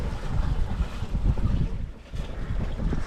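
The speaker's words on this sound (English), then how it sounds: "it is nice and relaxing to sail like this for sure" A sailboat moves along in a light breeze near the Las Perlas Islands, with soft, steady wind rush and gentle water wash against the hull, close and fairly quiet, with no one talking.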